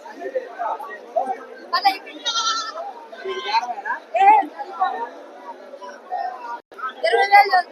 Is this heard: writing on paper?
no